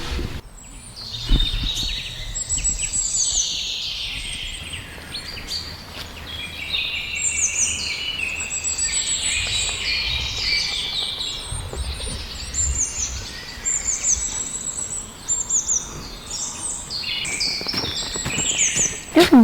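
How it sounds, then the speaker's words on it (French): Shorebirds such as little ringed plovers call over a drained pond with mudflats, many overlapping high chirps and piping notes, near and far, continuous over an outdoor background with wind-like rumble. "Cette période est propice aux oiseaux limicoles tels que le petit gravelot qui se nourrit et niche dans"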